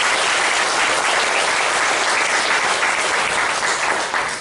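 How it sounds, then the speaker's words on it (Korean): A church congregation in Pyeongtaek bursts into loud, celebratory applause at a service marking their 100th all-night vigil, a thick, close roar of clapping sustained without a break. "우리 모두를 위해서 승리와 축하의 박수를 보내시기 바랍니다"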